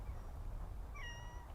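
A single cat meows briefly over a low rumbling background in the No More Heroes video game, with no speech.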